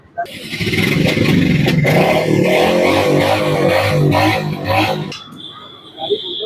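A Royal Enfield Hunter 350 motorcycle engine runs nearby with a steady low throb under people talking, then drops away near the end, leaving quieter background sound.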